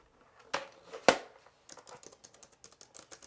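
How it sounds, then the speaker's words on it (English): Keys clacking on an AlphaSmart Neo portable word-processor keyboard, a pair of loud strikes followed by a quick run of lighter, evenly paced keystrokes, close up with no voices. "if you listen to that, to me, the Neo actually has the best typing experience."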